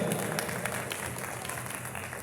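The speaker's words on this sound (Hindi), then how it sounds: "भैया बिना कहे ताली बजा देना" Audience applause at a kavi sammelan poetry recital in Haridwar, a steady wash of clapping from a crowd that holds at an even level throughout.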